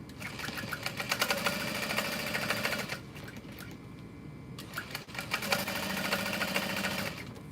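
A sewing machine top stitches strap connectors, running in a fast, even mechanical chatter for about three seconds, pausing briefly, then stitching again, close and loud with no talk.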